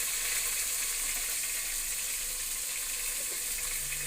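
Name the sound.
meat being added to a pot for haleem, sizzling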